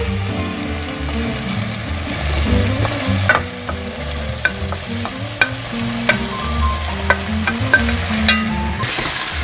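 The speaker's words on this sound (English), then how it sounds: "I'm going to add all the meats together in the pot" Jambalaya meats sizzle and fry steadily in a pot on the stove, a loud continuous crackle broken by occasional sharp scrapes and clinks as the food is stirred.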